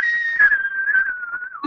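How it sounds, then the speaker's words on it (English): A person whistles a sustained, wavering melody line for a couple of seconds, clear and close, with a slight downward glide at the end and no talking. "you were whistling along, and it was so good"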